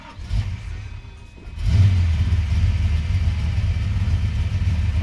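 A car engine idles with a low rumble, then revs up and settles into a loud, steady, throaty exhaust drone that fills the rest of the clip.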